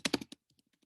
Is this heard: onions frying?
no